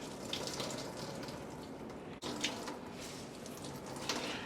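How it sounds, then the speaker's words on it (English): Liquid squeezed from a cheesecloth pouch over a sink while preparing spicy mango kuchela, a steady close splashing and trickling stream with slight surges, no talking. "We're going to wring it like so, make a nice little pouch, and then over the sink we're just going to squeeze."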